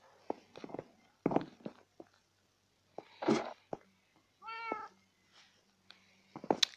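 Minecraft cats meow in short separate bursts with quiet gaps between, one long wavering meow in the middle, mixed with soft taps and a sneezy snort.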